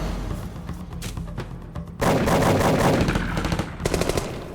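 Rapid bursts of automatic gunfire in an action movie military ambush scene, loud and dense, thickening into a sustained barrage with overlapping shots partway through.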